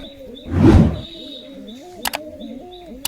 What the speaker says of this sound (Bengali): এই যে ডানা ভাইব্রেশন করছে